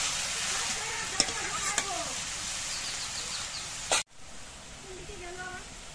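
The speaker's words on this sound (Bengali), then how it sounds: "শাকগুলো নেড়ে চেড়ে দিতে হবে যাতে তেলের সঙ্গে ভালো মতো মিশে।" Grass pea greens stir-fried in hot oil, a steady sizzle with a few sharp utensil clinks and a brief scrape before a sudden cut, then quieter frying continues.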